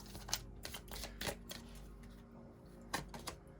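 Cards are shuffled for a tarot-style reading, a string of soft, quick riffling flicks and taps at close range, fairly quiet, with short gaps between bursts.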